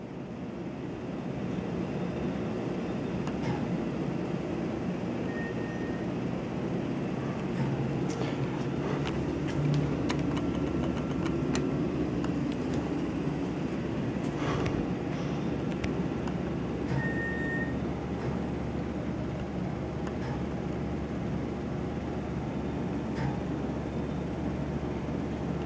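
A Westinghouse hydraulic service elevator in the Chemistry and Biochemistry building at K-State rides down to the basement with a steady low rumbling drone, scattered clicks and rattles, and a couple of faint short beeps.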